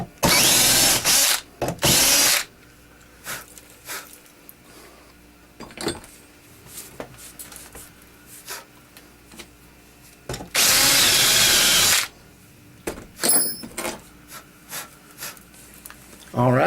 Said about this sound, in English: Got it drilled right here now. This is for our lanyard hole